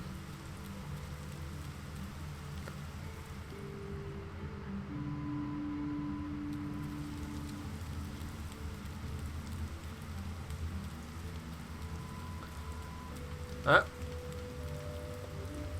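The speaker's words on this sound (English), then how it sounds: "I really love rain. It's nice and cold." Rain falling in the video game Fall of Porcupine, a faint steady hiss with a low ambient hum and one brief sharp sound near the end, heard alone.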